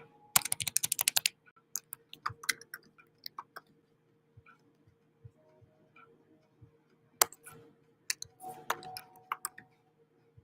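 Someone types on a computer keyboard in bursts of quick clicking keystrokes, a dense run at the start followed by scattered, sparser taps and another cluster near the end, close and clear with no talking.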